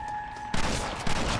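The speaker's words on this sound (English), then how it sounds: "And why are they shooting at me?" Gunfire in the Red Dead Redemption: Undead Nightmare video game: a sudden burst of loud overlapping shots breaks in halfway through a steady hum and keeps rattling in dense, uneven volleys.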